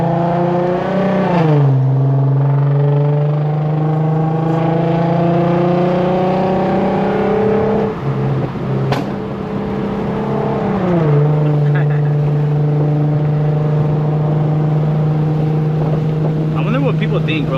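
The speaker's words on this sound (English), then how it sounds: "Oh my gosh, that exhaust leak." Tuned Infiniti Q50 with a leaking exhaust revving from inside the cabin, a loud droning engine whose pitch climbs and drops in two big sweeps with a raspy, buzzy edge.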